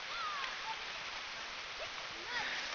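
A river flows below a mountain lookout among trees at Yarrangobilly, a steady broadband rush of water heard from a distance, with faint bird chirps over it.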